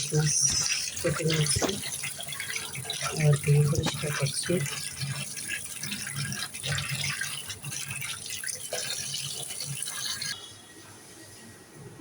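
Fresh hilsa fish rinsed under a running kitchen sink tap, with splashing and sloshing water and occasional clinks, close up, tapering off near the end while someone speaks over it.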